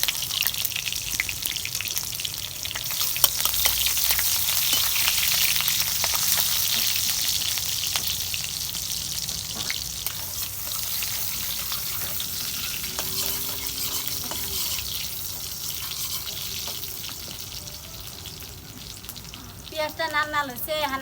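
Onions sizzle and fry in oil in a wok, a steady crackling hiss across the whole stretch, with occasional stirring scrapes and soft drips near the end.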